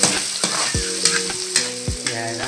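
Pork stir-frying in a pan for pancit canton, a steady close sizzle broken by several sharp stirring scrapes of the utensil against the pan, loud and with no talking.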